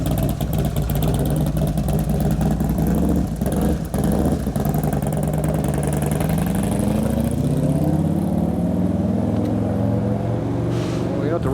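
A 2011 Harley-Davidson Road Glide twin cam engine under repair for a motor noise, rumbling steadily while riding with rising and falling revs, loud and close, mixed with wind and some talk.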